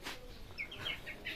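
Native chickens on a home rooftop make a handful of short clucks and chirpy calls, spaced irregularly and moderately close, with no one talking.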